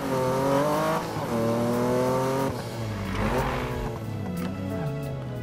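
A modified car's engine in the Need for Speed video game revs loud and close across the whole stretch, pitch rising and falling through gear changes with a brief tire squeal, no talking.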